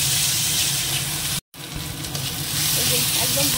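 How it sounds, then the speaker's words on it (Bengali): Ginger and garlic paste fries in a pan with a steady, bright sizzle that continues throughout, cut by a brief silent gap partway through. "এবার এটা একটু ভাজা করে নিই, তাহলে কাঁচা রসুনের গন্ধটা চলে যাবে।"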